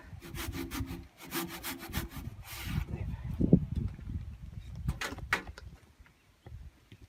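A hand saw cuts through a wooden beam while a lengthwise beam joint is made, in steady back-and-forth rasping strokes up close, pausing briefly between bursts, with no speech.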